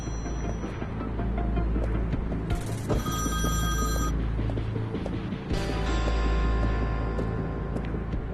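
A telephone ringing indoors, two long electronic ring bursts separated by a short pause, loud and clear over a steady low background hum.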